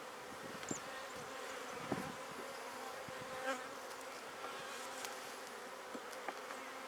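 Honeybees buzzing in an opened hive during an inspection after a colony split, a steady soft drone with occasional individual bees flying past close by.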